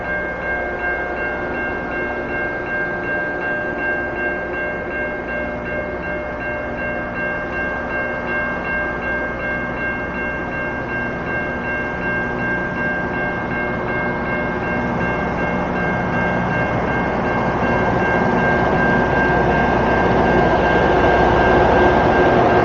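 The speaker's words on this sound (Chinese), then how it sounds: "这个就是他们这个火车啊，就是我们中国人印象当中那种很老的这种火车" A long, old-style passenger or freight train rolls past near Burnaby Lake in Vancouver, a loud continuous rumble with steady humming tones that builds slightly louder as the cars keep passing.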